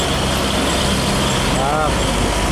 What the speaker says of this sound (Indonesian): Trailer Hino di belakangnya gandeng.